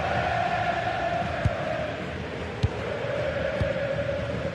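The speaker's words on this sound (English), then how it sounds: "The crowd certainly think so. Just listen to them." Stadium crowd in a football video game: a steady, broad roar of cheering and chanting holds throughout at an even level, with a few sharp thumps cutting through.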